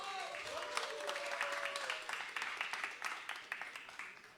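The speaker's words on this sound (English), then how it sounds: "can we get another applause here for the teams?" An audience at a CS:GO championship claps for the teams, faint and fairly distant, with a voice speaking early on and the clapping thinning into scattered individual claps toward the end.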